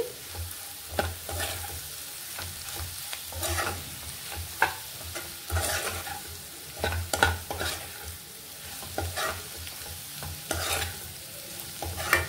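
Egg and potato curry with garam masala frying in a pan while a spoon stirs it, giving soft sizzling under repeated scraping and clinking strokes, close and fairly quiet, with no talking.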